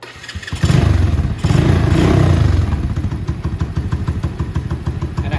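A Venom motorcycle engine cranks and fires close by, roaring briefly before settling into a low, rhythmic idle with steady pulsing thumps.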